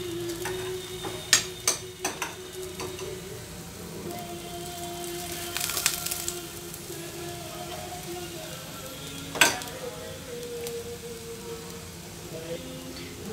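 An aloo paratha fries in ghee on a pan, a soft continuous crackle and sizzle with occasional sharp taps and clinks from rolling and handling nearby, no clear talk.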